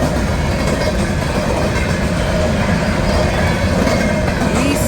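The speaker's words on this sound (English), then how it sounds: "E700 empty coal train." An empty CSX coal train rolls steadily past on the New Castle Subdivision, a loud continuous rumble of wheels and cars with faint squeal, close by and unbroken.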